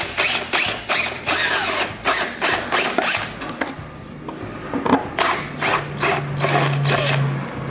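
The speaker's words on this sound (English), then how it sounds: "So you get a drill bit or a step bit. This is a step bit." A step bit drills a hole in a plastic gas tank, heard close up as a series of short, grinding bursts with brief pauses between them.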